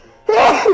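One sudden sneeze bursts out after a brief quiet moment. It is sharp and close, with a short breathy, voiced release.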